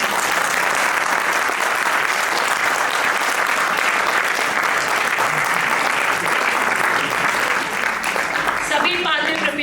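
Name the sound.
audience applause after the play Chitrangada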